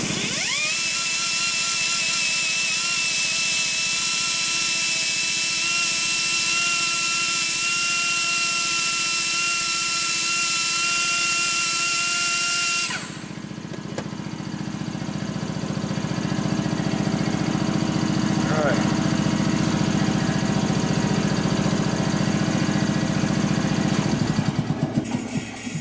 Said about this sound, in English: Waiting for the air compressor to shut off.